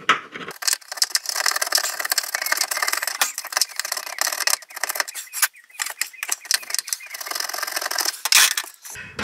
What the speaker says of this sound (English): Now I just need to scrape a little bit of paint off around that screw hole